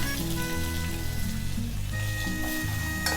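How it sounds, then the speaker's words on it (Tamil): Chopped onion sizzles in a pan over medium heat, a steady frying hiss heard under louder background music with no talking. "இப்போ நம்ம சாப் பண்ணி எடுத்த ஆனியன் ஆட் பண்ணலாம்."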